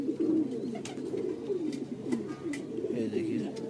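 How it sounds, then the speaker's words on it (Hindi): A Kalsara Kasni pigeon coos softly in repeated low rolling phrases, close by, with someone speaking at times over it. "ये और एक कासनी कबूतर है, कलसरा कासनी कबूतर"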